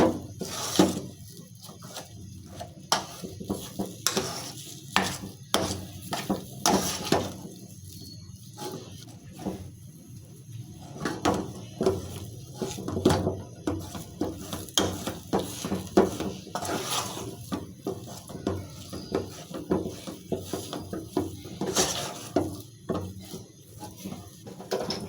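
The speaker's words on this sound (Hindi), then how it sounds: "इसको हम थोड़ा सा 1 से 2 मिनट के लिए आलूओं को अच्छी तरह से मिक्स कर लेंगे" Spiced potato filling for aloo tikki kababs is stirred in a pan over high flame, with a spatula clattering and scraping against the metal in a steady run of close, sharp clinks and no talking.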